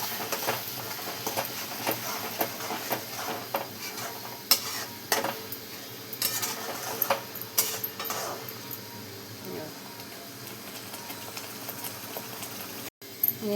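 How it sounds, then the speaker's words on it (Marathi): Ground masala stirred and mixed in a pan for a paneer, pea and potato curry, with continuous scraping and soft bubbling sizzle, close by and steady, a few louder spoon knocks. "असं मस्त मिक्स करून घेऊ आपण सगळं"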